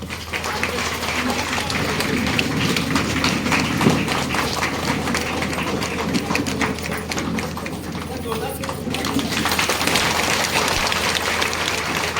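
An audience claps continuously at a formal gathering, a steady, dense patter of applause that holds level throughout with no pauses.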